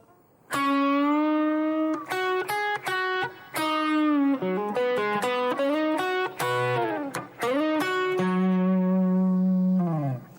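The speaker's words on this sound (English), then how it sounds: "the final lick of the first verse sounds like this" An electric guitar plays a blues lick with string bends and quick picked notes, ending on a sustained low note; distorted tone, loud and up close.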